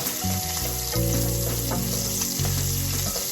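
Cabbage frying in a pan for Southern fried cabbage makes a loud, constant sizzle. Steady low tones run underneath, and there is no talk.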